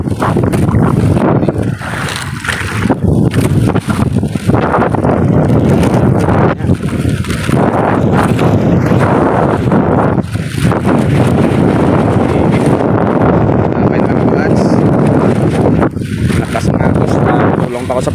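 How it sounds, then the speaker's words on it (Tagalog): Strong wind buffets the microphone throughout, a loud continuous roar with gusty rumbling, while voices speak intermittently beneath it. "Lakas ng hangin."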